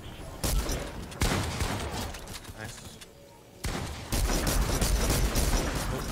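Dense bursts of gunfire in the video game Fortnite, coming from above, rattle through the whole clip in loud fusillades that dip briefly before a heavier barrage resumes; voices are mixed in underneath.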